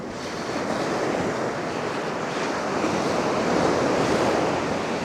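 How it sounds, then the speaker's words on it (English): Rough North Sea surf rolls in toward the beach at Anderby Creek, a loud, continuous roar of crashing waves with wind buffeting the microphone. "The power of the waves crashing in."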